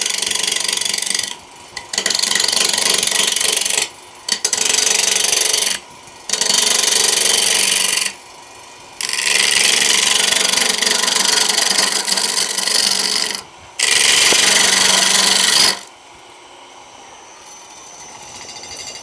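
Natural-edge mesquite with deep bug tracks spins on a wood lathe at full 3,000 RPM, with a loud, harsh, continuous roar in several long stretches separated by short pauses.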